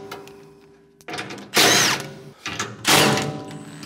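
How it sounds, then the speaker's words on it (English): A handheld impact wrench with a 9/16 socket spins nuts off a MUSKOX snowblower's side guide, firing in two loud, close bursts separated by a short pause. "I'm gonna go ahead and get a 9/16 socket. My handy little impact. Spin the nuts off."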